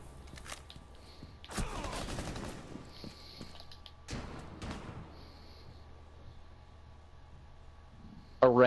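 Bursts of video game gunfire and explosive blasts crackle through a tense firefight, with several loud volleys and a sharp late impact over a busy background.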